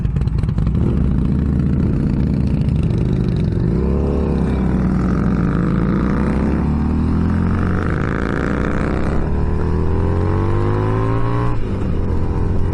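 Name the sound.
Harley-Davidson Street Rod motorcycle engine revving, muffler popping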